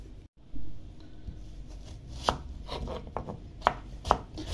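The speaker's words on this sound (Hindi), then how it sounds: "ये अब हम प्याज काट रहे हैं" A knife chops onions on a board for chicken biryani, giving a series of sharp, irregular cuts, some louder taps standing out against quiet background.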